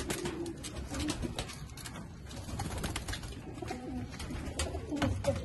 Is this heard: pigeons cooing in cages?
yes